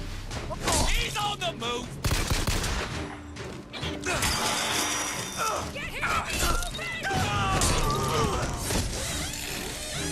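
Automatic rifle fire in the first-person shooter BioShock Infinite, dense and loud with shattering crashes and mechanical clatter over game music, a voice talking through parts of it.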